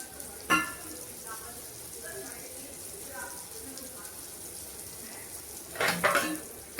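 Curry leaves hit hot oil with plantain masala in a pan, giving a steady low sizzle broken by two sharp spattering bursts, one near the start and a louder cluster toward the end.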